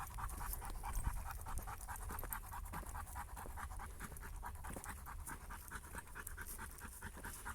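A dog pants steadily and rhythmically on a busy woodland walk, the quick breaths close and continuous over faint outdoor background noise, with no talking.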